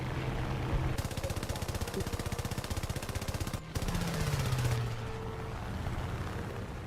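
Sustained rapid gunfire from an aircraft in War Thunder, a steady rattling stream broken by a short pause, then continuing before tapering off under engine drone.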